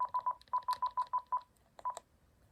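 Touch-tone keypad on a desk telephone with an orange backlight, giving a quick run of about ten crisp dialing beeps in a steady rhythm, then a short pause and a couple more tones, close and clear.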